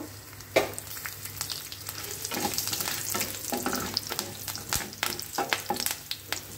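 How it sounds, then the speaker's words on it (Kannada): Chana dal, a cut dried red chili and curry leaves sizzle and crackle in hot oil as a tempering, with irregular sharp pops and stirring scrapes over a constant frying hiss, close and without talk. "ನೋಡಿ ಒಗ್ಗರಣೆ ರೆಡಿ ಆಯಿತು"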